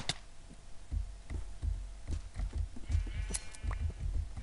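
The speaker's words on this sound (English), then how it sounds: "Oh, look, a white sheep." A Minecraft sheep bleats faintly amid soft repeated footstep-like thuds and scattered clicks of gameplay, quiet and close.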